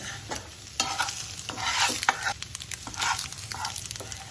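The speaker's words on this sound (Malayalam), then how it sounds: "മസാല മുട്ടയിൽ പിടിക്കുന്നത് വരെ ഇതൊന്ന് ഇളക്കി കൊടുക്കണം." Boiled eggs being stirred through sizzling masala in a frying pan, with repeated scraping strokes over a steady hiss, close and fairly loud throughout.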